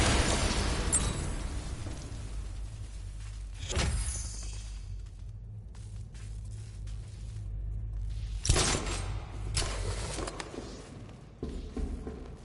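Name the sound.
explosion detonated by a character in Batman episode 2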